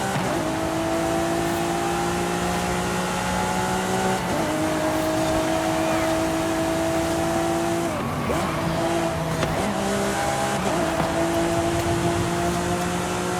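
Lamborghini Aventador SVJ V12 engine in Forza Horizon 5 revving hard through rising gear pulls, with several sharp shifts and dips in pitch, loud and close with no talking.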